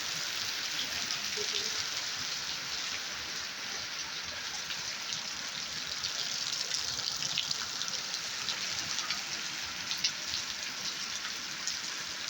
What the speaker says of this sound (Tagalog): thunderstorm, raining, windy, heavy rain, with hailstorm